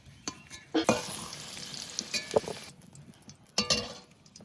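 Potatoes seasoned with salt and turmeric fry in oil while being stirred, with a steady sizzle under sharp metallic clinks and scrapes of a spatula against the pan.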